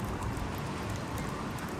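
A steady, dense downpour of rain in Guadalajara falls during a storm, with a continuous hiss of drops pattering on surfaces at an even, unbroken level throughout, with no voices.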